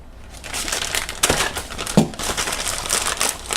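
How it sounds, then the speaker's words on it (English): Cardboard and plastic packaging ripped open with a Leatherman Surge multitool, a close run of crinkling, tearing and crushing noises with a few sharper snaps along the way. "Got my trusty Leatherman Surge here. We're going to rip it open with that."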